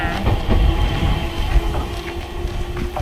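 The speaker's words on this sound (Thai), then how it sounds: "โอ้รถไฟที่เรามา" A train at Matsuda station in Japan rumbles steadily and close by, with clattering wheel noise and a faint tonal whine over a low, continuous roar.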